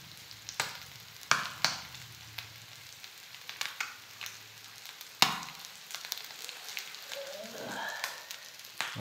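Small puti fish sizzle and crackle in a pan on the stove, a continuous frying hiss punctuated by sharp pops and spatters, close and fairly loud.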